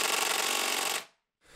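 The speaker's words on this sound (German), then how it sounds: "Diesmal werde ich einen Schlagschrauber nehmen." An impact wrench hammers at bolts set in stone during a window replacement, a dense rattling burst that cuts off abruptly, then starts again after a short pause.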